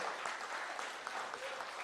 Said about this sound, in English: Let's give Yusef a round of applause, too, please